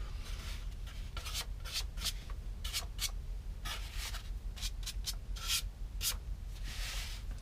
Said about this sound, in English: a roll of 220 grit sandpaper,